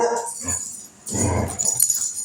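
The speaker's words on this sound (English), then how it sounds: "She thinks I'm playing with her. She's a puppy." An almost 11-month-old female puppy whimpers and yips in short bursts while playing, the doggy sounds close and fairly loud with a brief quiet gap midway.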